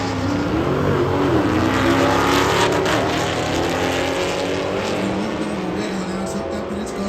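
A Dodge Hellcat roars down a drag strip quarter mile at full throttle, a loud sustained engine howl with rising pitch as it pulls away, crowd ambience underneath.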